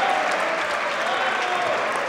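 A crowd at a squash match breaks into steady, enthusiastic applause, a dense wash of clapping that fills the whole moment, loud and close.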